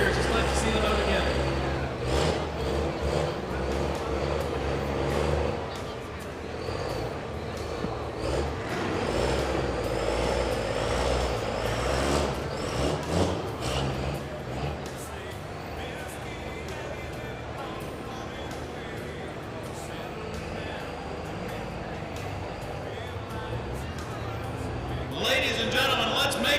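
A 1939 Fargo truck strains through a truck pull at a fairground event, its engine roaring loud and steady under a PA announcer and crowd noise, with air-brake hisses and a surge near the end.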